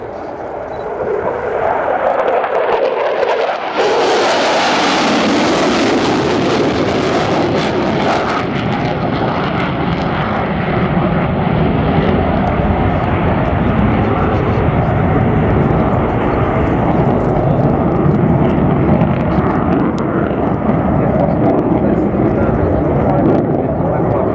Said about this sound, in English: here we see something of the low-level capability of the fitter in a show of force, 480 knots, 500 feet